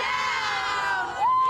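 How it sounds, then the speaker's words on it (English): A crowd at a live event cheers and shouts together, children's voices among them, loud and sustained for over a second with a rising whoop near the end. "Should we do one more cheer before I go?"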